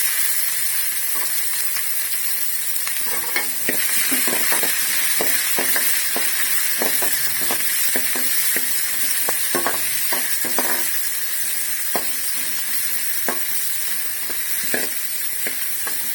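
Onions sizzle steadily as they fry in a pan for a cluster bean (kothavarangai) poriyal, with mustard seeds and chana dal already in the oil, while a spoon scrapes and stirs in repeated clicks and taps throughout.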